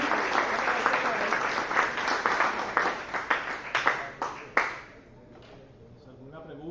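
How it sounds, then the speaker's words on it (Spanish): An audience at an industrial predictive-control lecture applauds a professor, a dense burst of clapping that thins into scattered claps and fades after about five seconds, followed by quiet room sound. "Un aplauso para el profesor."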